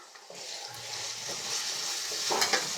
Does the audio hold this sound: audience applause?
no